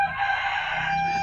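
A rooster crows once, loud and close, in a sustained harmonic call that lasts the whole moment in a rural provincial setting.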